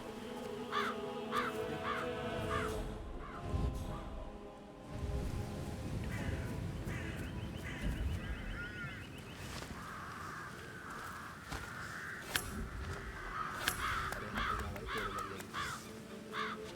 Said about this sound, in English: Damn birds. If I could just get clear hits on those nests.